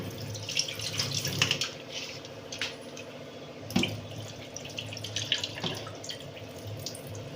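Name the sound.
water poured off soaked chicken pieces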